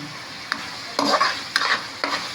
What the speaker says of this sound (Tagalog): gigisa lang po natin siyang mabuti